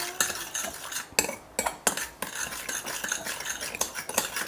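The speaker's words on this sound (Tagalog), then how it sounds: "We're gonna put a little bit of sugar, tiny bit of salt, and then we're just gonna mix it." A spoon stirs rice vinegar, sugar and salt together for sushi rice, producing close, light clinks and scrapes against a bowl in an irregular rhythm, with brief pauses between strokes and no talking.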